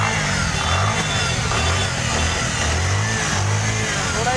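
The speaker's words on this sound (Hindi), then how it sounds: "ये 150 सीसी बजाज एवेंजर है।" A Bajaj Avenger 150cc motorcycle with about 20,000 km on it runs steadily at idle in a street bike market, its mid-pitched engine drone constant and close throughout.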